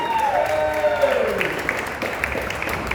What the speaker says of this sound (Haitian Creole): Je vous demande d'applaudir encore une fois très très fort Angelo Chimaniga Jr.